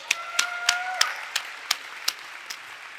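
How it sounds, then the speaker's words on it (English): An audience at an anniversary awards event claps in a sparse, slowing rhythm: about eight distinct claps that grow fainter, with a faint tone sounding under the first second. "Give yourselves a round of applause."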